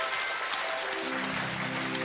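Studio audience applauding on a Russian TV music quiz show, a dense, steady wash of clapping that fills the whole stretch at even loudness, with a musical tone rising underneath toward the end.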